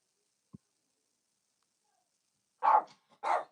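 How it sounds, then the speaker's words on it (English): A dog barks twice close by, two short sharp woofs in quick succession after a faint tap and a stretch of silence, during a live game stream. "why are you barking"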